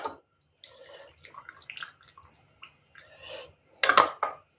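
Hot water pours and splashes in short bursts into jars of fried peppers, close up and fairly quiet, with a louder splash near the end.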